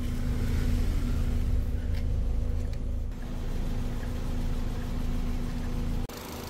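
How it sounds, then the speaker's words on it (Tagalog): A 2014 Ford EcoSport engine idles steadily with a smooth, even hum and a constant low drone that carries on without a break, and no one speaks over it. "Well-maintained din po ang engine nitong EcoSport. Stable and matining umandar."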